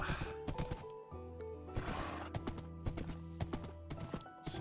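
Hooves of Epona, a horse in Minecraft, clip-clop in quick irregular clusters of sharp knocks, fairly close, over a steady tonal game background.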